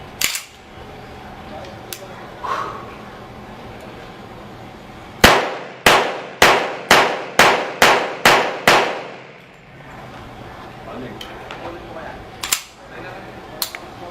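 A 1911 pistol loaded with an Act-Mag magazine fires a quick string of about eight loud, evenly spaced shots, with a few isolated sharp reports and metallic clanks before and after.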